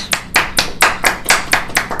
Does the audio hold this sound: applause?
yes